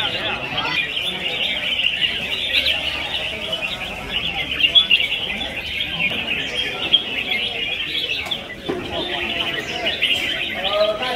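Caged competition songbirds sing at a bird-fighting arena, a dense continuous chorus of bright chirps and trills layered over crowd noise and background talk.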